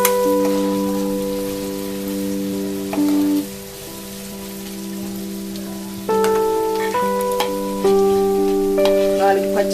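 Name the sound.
onion pieces frying in oil for emu curry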